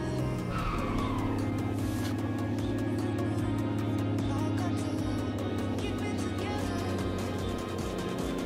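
A two-axle Atego bulk cargo truck accelerates in Euro Truck Simulator 2, a loud, steady engine drone that holds without a break for several seconds; no one speaks.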